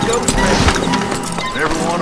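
Hoofbeats thud from a horse in the video game Red Dead, a few close, heavy steps heard over a busy background of game sound and murmuring voices.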